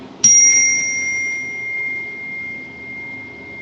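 A single bright bell strike rings out close and clear, its tone sustaining and slowly fading over a few seconds.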